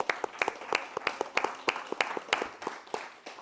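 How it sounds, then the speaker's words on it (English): A smaller group applauding coaches at a promotions ceremony, distinct individual claps in a quick uneven rhythm, moderately close and not very loud, thinning slightly toward the end. "so we can get a big round of applause for them"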